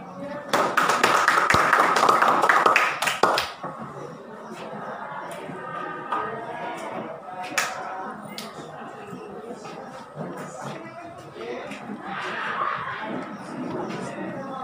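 Students in a classroom clap together in a loud burst of rapid, overlapping hand claps for a few seconds, then fade to scattered taps and soft background chatter from the class.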